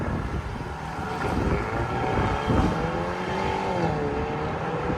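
A Mercedes E 400 with a 3.0L twin-turbo V6 and a modified X-pipe or Y-pipe exhaust holds a loud, close, steady engine roar under gusty wind buffeting, with no talking.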